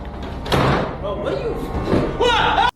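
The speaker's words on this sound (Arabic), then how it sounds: "الباب انضرب بقوة" A door slams shut hard inside an abandoned asylum during a live stream, a loud thud over close, excited voices talking.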